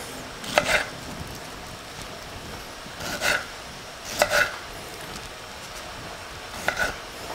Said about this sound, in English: So for the tomatoes, all I'm going to do is cut them into quarters.